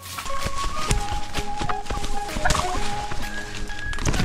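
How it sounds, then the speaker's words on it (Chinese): A wild turkey in dense low forest gobbles and clucks amid rustling and thumping movement nearby, the calls rising in short bursts over a busy, scuffling background as it is chased. "一只野生的火鸡"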